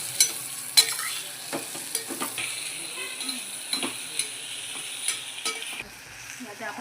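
Cluster beans (guar) are stirred and fried in a pan, with a steady sizzle and repeated spoon scrapes and clicks at an irregular rhythm, close by, then easing near the end.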